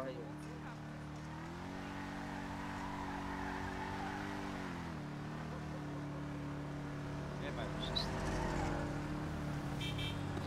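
Car engine in the zombie-survival game FiveZ, a steady droning hum that shifts pitch as the vehicle drives past, continuous and fairly close, with people talking over it.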